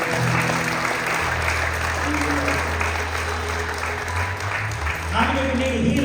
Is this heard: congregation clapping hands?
yes